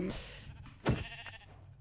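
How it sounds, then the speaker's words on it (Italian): A sheep in the Minecraft video game bleats once, a brief nasal cry standing out amid game sounds while Italian players chatter. "Proviamo su una pecora."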